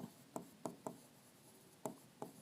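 Five short, distinct scratches from writing on a board during a physics lecture, in irregular strokes, close and fairly quiet, with no talking.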